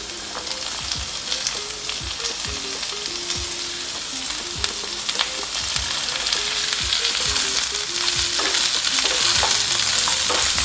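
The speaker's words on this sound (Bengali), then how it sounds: "সবজিগুলো 2-3 মিনিটের জন্য ভালোভাবে ভেজে" Chopped vegetables for South Indian sambar sizzle and fry in a pan, with steady hissing and repeated clinks and scrapes of a spoon stirring, close and continuous without talk.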